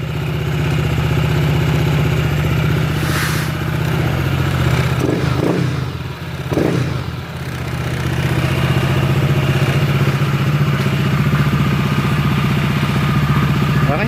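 A Honda ADV160 scooter engine runs steadily throughout, a loud, droning idle with a rough vibrating rumble, a cricket-like chirping noise, and a slight dip midway.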